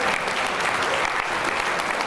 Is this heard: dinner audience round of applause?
yes